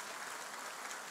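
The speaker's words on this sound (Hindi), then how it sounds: "उनके लिए भी जोरदार तालियां।" Brief, dense audience applause at a national principals' conference for Kendriya Vidyalaya and Navodaya Vidyalaya schools, a steady wash of clapping from a large hall.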